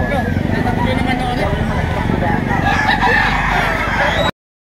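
A Boston Roundhead rooster crows loudly at a busy gamefowl market in Lipa, Batangas, its call rising over a dense background of other birds and crowd noise, with people talking nearby.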